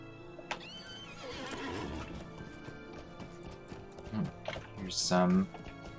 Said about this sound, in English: so I'm going to get on my horse.